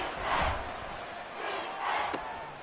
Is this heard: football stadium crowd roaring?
yes